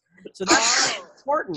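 A loud, sharp human sneeze bursts out near the mic during a panel discussion, a short inhale leading into the explosive blast, with a person speaking briefly just afterward.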